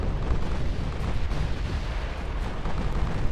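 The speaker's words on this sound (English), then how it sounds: "There's the amount of shell fire going back and forth though" Continuous battleship shell fire in the naval game Ultimate Admiral Dreadnoughts, a steady deep rumbling roar of heavy guns and distant blasts blending together without clear gaps.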